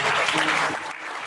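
Audience applause at an awards ceremony, a dense, steady clapping from a crowd that stays loud throughout and thins slightly toward the end.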